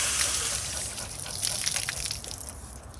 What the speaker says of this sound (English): Okay, so I'm gonna rinse this off.